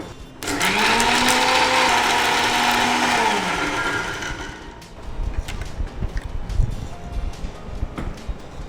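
A kitchen mixer grinds cooked ragi into a fine paste, a loud steady whirring drone for about four seconds that then cuts off, leaving clattering kitchen noise.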